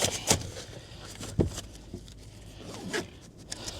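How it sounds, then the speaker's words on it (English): The front zipper of a battery pack carry bag is pulled closed in a few quick, close, rasping strokes with brief pauses between them, with no voices. "Then you can zip up this front bit."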